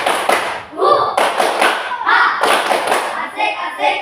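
A group of elementary school pupils claps out a rhythmic chant in a classroom, sharp close claps in uneven bursts mixed with loud chanting voices throughout.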